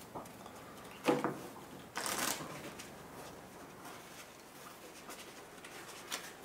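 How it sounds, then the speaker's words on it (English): A deck of Worlds Collide game cards being shuffled: two short, crisp riffling bursts close by, followed by quiet handling, with no talk. "Oh, you know what? I forgot to shuffle."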